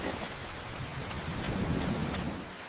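Steady rain pours down with a dense, hissing patter, while a low rumble of thunder swells briefly in the middle, heard from a fair distance with no voices.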